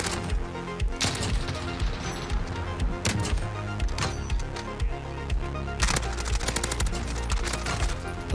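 MP5 submachine gun fire in the shooter game Modern Warfare: dense, rapid full-auto bursts in several strings, loud and close, with no talking.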